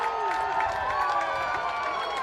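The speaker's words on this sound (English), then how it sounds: "this crowd is alive here in Pullman" A baseball crowd in Pullman cheers and hums in a loud, continuous wash of voices, with an announcer talking over it.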